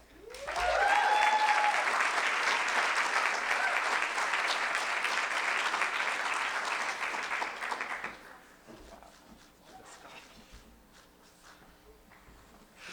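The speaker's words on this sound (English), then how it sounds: "this round of applause for Jingheng" Audience at a Parsons School of Design Strategies masters graduation ceremony bursts into loud, sustained applause with a brief whistle, clapping dense for about eight seconds before dropping to faint scattered claps and shuffling.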